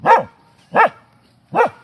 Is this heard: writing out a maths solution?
no